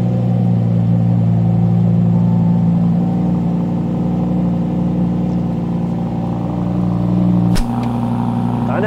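A Ferrari F8 Tributo idles loud and close at a high cold-start idle, a steady droning hum that dips slightly near the end.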